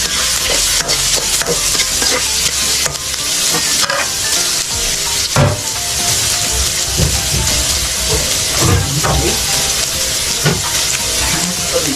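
Onion and ginger frying together in a pan for chicken tinola, giving a steady, fairly loud sizzle with scattered crackles and occasional stirring scrapes throughout, no voices.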